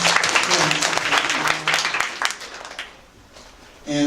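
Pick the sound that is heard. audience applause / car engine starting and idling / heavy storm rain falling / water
audience applause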